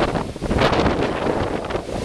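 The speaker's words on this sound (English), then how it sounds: "It gets windy up here." Strong wind buffets the microphone, producing a loud, rumbling roar that gusts and surges without letup.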